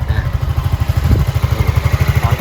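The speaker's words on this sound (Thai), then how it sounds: "เรามาฟังเสียงท่อกันก่อนแล้วกัน" A 2020 Honda Forza 350 scooter idles close by after a fresh start, its exhaust putting out a steady, even low putter of quick regular pulses.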